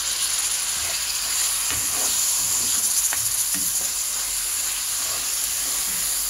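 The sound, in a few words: sizzling as tomato and green chili are added to the pan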